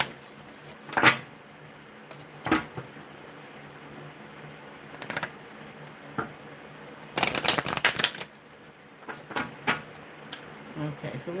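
Tarot cards are shuffled and handled for a three-card reading, with sharp bursts of riffling and card flicks broken by short pauses and a dense flurry midway.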